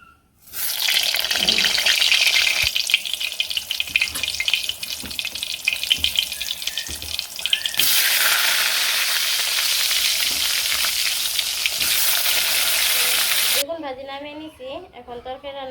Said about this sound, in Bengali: কড়াইতে তেল দিয়েছি এখন বেগুনগুলো দিয়ে দিই প্রথমে